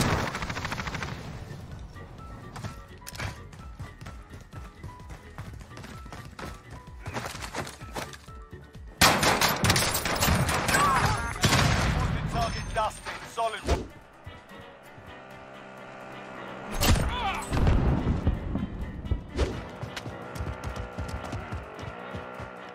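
Gunfire in the video game Warzone: bursts of rapid shots and sharp impacts that come in clusters, some loud and close, with quieter stretches between them and occasional voices mixed in.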